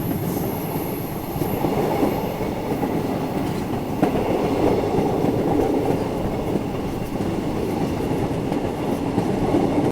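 A train rolls steadily through dense Malaysian jungle on an old British-built line, its loud, continuous rumble and clatter of wagons filling the whole stretch with no voices over it.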